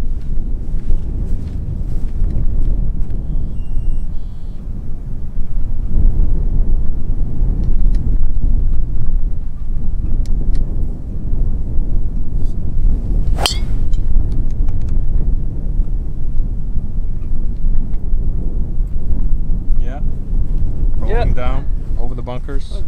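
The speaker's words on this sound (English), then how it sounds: "Lots of wind from right to left." Strong wind blows right to left across a golf course at a long par 5, roaring and buffeting the microphone steadily throughout while people talk now and then.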